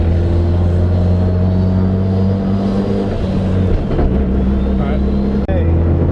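A 1988 Mazda RX7 with a Fortune Auto 500 series suspension install drives along a road, its engine giving a loud, steady drone heard from inside the car, with one brief dip and bump near the end.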